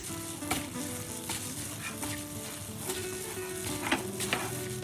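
Ingredients for a Lao vegetable soup are stirred and mixed in a hot pan, giving a continuous sizzle with occasional soft scraping and clinks, fairly quiet and steady, with no talking.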